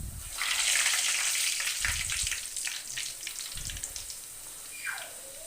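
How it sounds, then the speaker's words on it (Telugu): Puri frying in heated oil in a kadai, a steady broadband sizzle and crackle that rises when the dough goes in and then holds alone at a moderate, close level. "పూరీ వేస్తున్నాను."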